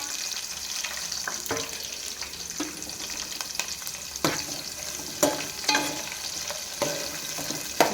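Green chillies and onions fry in hot oil in a pan, a steady close sizzle broken by sharp scrapes and clinks of stirring spaced through the eight seconds, with no talking.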